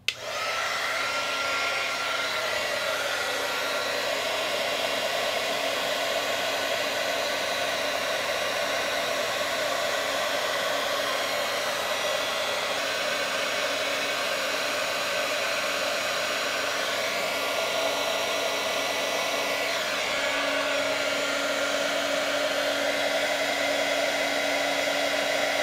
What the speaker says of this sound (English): Now we're going to turn on our heat shrink gun.